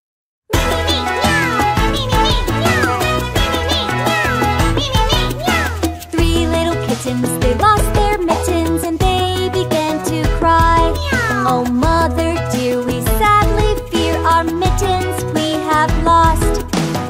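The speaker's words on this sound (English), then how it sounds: "Meow, meow." Cartoonish cat meows repeat over a bouncy children's nursery song with busy instrumental backing, the meows blended into the music rather than standing alone.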